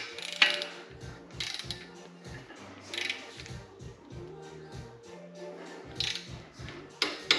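A torque wrench ratchets in quick repeated bursts of sharp clicks while tightening bolts during a bearing clearance check, with brief pauses between strokes and no talk.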